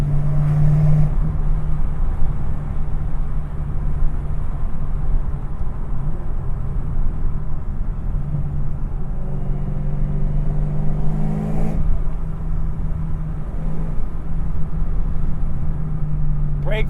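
Camaro ZL1 tuned to 690 rear-wheel horsepower, its engine revving hard under steady acceleration, a loud continuous low drone with rising pitch that swells again near the end.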